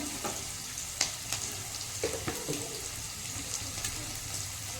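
Something sizzles steadily in a hot pan before grated radish goes in, a continuous crackling fry broken by a few sharp clinks of stirring.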